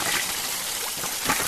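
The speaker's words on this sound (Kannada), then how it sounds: "ಕಬ್ಬಿಗೆ ನೀರು ಬಿಟ್ಟಿದ್ದೆ" Irrigation water flows into a sugarcane field in a steady, close rushing wash with faint gurgles and no voices.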